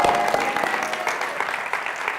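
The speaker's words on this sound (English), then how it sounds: "So give yourselves a big round of applause." A seminar audience applauds: dense, steady clapping from many hands in a room, sustained throughout at fairly loud level.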